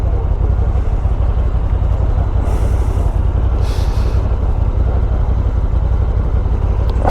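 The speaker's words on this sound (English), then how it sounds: "An awful lot of bikes here." Steady loud engine drone from passing motorbikes, with strong wind buffeting the microphone throughout and a couple of brief higher whooshes midway; no clear separate pass-bys stand out.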